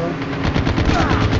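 Rapid automatic gunfire rattles continuously in the mobile shooter Call of Duty: Mobile, a loud dense burst of repeated shots with faint talk underneath.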